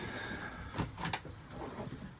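A drawer slides open in the kitchen of a Swift Voyager 494 motorhome, a brief close scrape and a couple of soft knocks over faint room noise.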